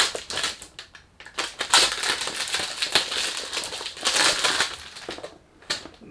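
Crinkling packaging rustles and crunches close by in irregular bursts while a large perfume box is unboxed, with short quiet gaps between the handling sounds.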